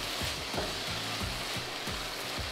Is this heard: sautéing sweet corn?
yes